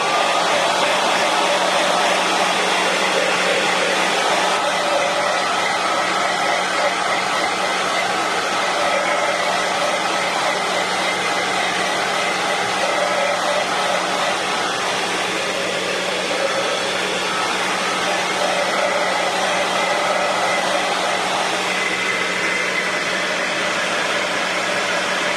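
Hair dryer blowing on a handmade crafting tag, a steady, loud whooshing hum with a low motor drone that runs unbroken for about twenty-five seconds, with no one talking.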